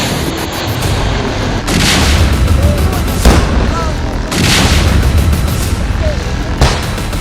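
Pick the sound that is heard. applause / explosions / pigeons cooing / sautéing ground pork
explosions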